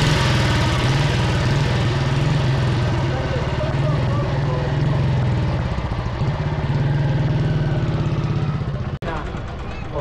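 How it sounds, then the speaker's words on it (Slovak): A vintage Praga 500 PD motorcycle with an OHC engine runs at an oldtimer meet in the Tatras, a loud, close, throbbing low idle that continues steadily before a sudden brief dip near the end, with voices nearby. "je to motocykl Praga 500 PD. Je to OHC, bude to krásny zvuk."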